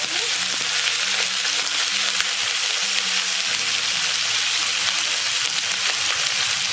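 Shredded cabbage dropped into hot oil already crackling with cumin, mustard seeds and whole spices, a dense close sizzle and spatter that holds steady throughout, with faint stirring clinks underneath and no voices.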